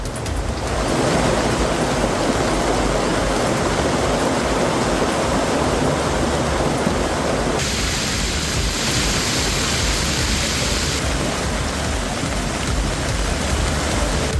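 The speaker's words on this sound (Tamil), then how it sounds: "இதேபோல காஷ்மீர் மாநிலத்தில் உதம்பூர், கிஸ்துவார், பதேர்வா உள்ளிட்ட இடங்களில் கனமழை பெய்தது" Heavy rain pours in Kashmir as a dense, constant hiss of downpour with a broad roar of water, steady and loud throughout without any voices.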